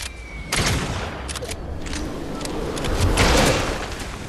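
Gunfire from the video game Fortnite, a burst of shots that begins about half a second in and stays dense and loud to the end, with a swell near the three-second mark and no voices.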